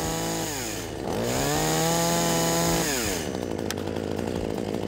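A LEA 25cc top-handle pruning chainsaw engine runs close by, its whining pitch rising and falling through short revs before dropping back, with no talking.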